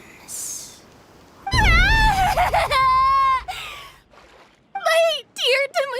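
High, strained character screams and cries from the video game Genshin Impact, loud and drawn out with wavering pitch, with a short burst up front and a second cluster of yelps near the end.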